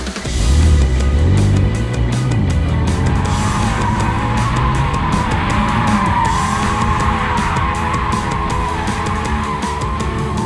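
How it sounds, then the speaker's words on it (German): A BMW spinning donuts on a driving-academy track, tyres squealing in a long continuous skid over a loud, steady engine roar, with the pitch rising and wavering as the car slides through the rotation. "Drift happens."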